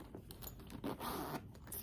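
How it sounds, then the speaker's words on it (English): The back zipper of a Patricia Nash crossbody handbag is pulled, giving a close, continuous ratcheting rasp with small metallic jingles from the pull, and no talking. "There is the back, has a back zipper with the Patricia Nash branding on it."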